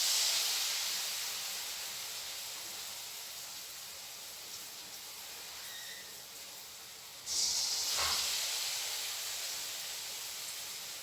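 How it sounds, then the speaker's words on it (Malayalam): Batter-dipped balls for a grape-cluster snack frying in hot oil, a steady bright sizzling hiss that swells again midway as more pieces drop in, with no talking. "ഇതുപോലെ ഈ മാവിൽ മുക്കി ഓരോ ഉരുളകളും എണ്ണയിലേക്ക് ഇട്ട്"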